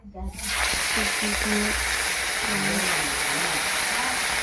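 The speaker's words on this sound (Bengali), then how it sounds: "তো মাছগুলোকে ছেড়ে দিয়েছি, ভেজে নিয়ে তো ভাজা হয়ে গেলে একটা পাত্রে তুলে নেব।" Fish hit hot oil in a pan and sizzle loudly and continuously, close up, in a village kitchen, with a voice speaking over the frying.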